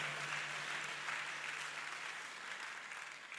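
A church congregation applauds in praise of the Lord, a dense, steady clatter of many hands that fades slightly toward the end.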